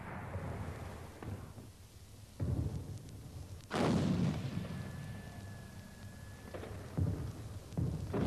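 Somme 1916 artillery bombardment with heavy booming blasts rolling like thunder, several loud detonations landing at irregular intervals over a rumbling low background.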